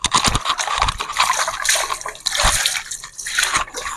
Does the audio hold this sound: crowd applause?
no